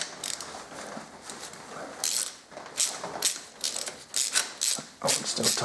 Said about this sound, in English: While you're watching me having a fun time removing bolts